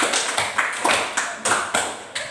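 Students in a classroom clap in a short rhythmic pattern, sharp evenly spaced claps of many hands in quick bursts, moderately loud and without talk.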